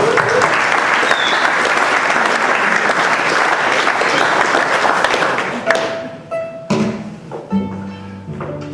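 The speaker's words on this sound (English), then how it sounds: "I think you all deserve a bloody good round of applause for yourself." Loud audience applause at a folk festival, a dense crowd clapping for several seconds before fading into scattered claps and the first thumps and notes of instruments.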